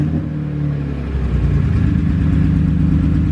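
A BMW E46 sedan with a swapped S54 engine idles just after starting, giving a steady, loud, close low rumble that holds level throughout with no talking.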